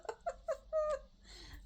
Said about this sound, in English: Kitties are getting crazy.